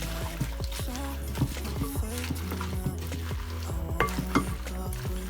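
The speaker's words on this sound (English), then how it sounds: "Give it a stir." Food is stirred in a pan while making cabbage pie, with a utensil tapping and scraping in quick, irregular knocks over a steady background sizzle.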